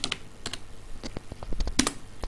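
A username being typed on a computer keyboard while logging into an Azure Linux virtual machine: a quick, irregular run of sharp key clicks, close and clear, with no talking.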